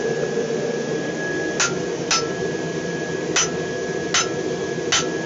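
Hot steel hammered over the edge of an anvil while forging a pair of tongs: five sharp metallic strikes, spaced unevenly, ring out close and loud over a steady background hum.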